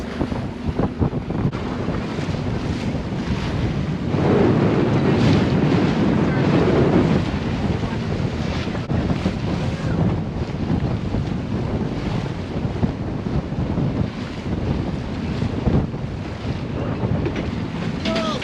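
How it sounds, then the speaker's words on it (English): Strong wind buffets the microphone over a steady wash of waves and water aboard a boat at sea near Little River Inlet, a loud, constant roar with surges partway through. "we are getting tossed by wake and winds"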